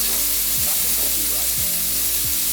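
Meat sears in a pan with a constant, bright sizzle close by, broken by a few low knocks from the pan being moved.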